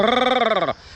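A voice imitates Chewbacca's growl from Star Wars as a throat-singing warm-up: one sustained, harmonically rich, rasping vocal tone lasting under a second, loud and close, then cutting off abruptly.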